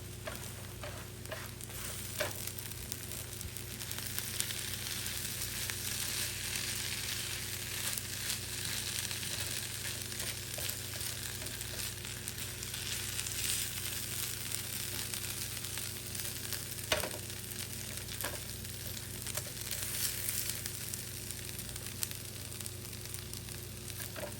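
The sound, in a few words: butter sizzling in a pan for an everything bagel breakfast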